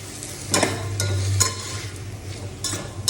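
Wilted onions and two chopped tomatoes sautéing in a pan, where a close, crackling sizzle is punctuated by several sharp scrapes and knocks of the stirring spoon.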